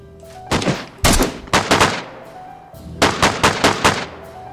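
Gunfire in the game DayZ comes in two bursts of about five and four sharp, loud reports in quick succession, separated by a brief pause.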